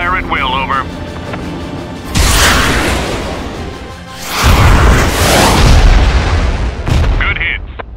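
Explosions from a weapon strike on an enemy target in a military engagement: two loud, close blasts, each a sudden broadband burst followed by a long rumbling decay. A brief radio-like voice is heard near the start.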